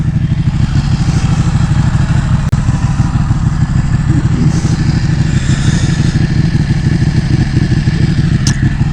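Ducati Panigale 1199 engine running close by, a loud steady throbbing idle with rapid even pulses and mechanical clatter held throughout.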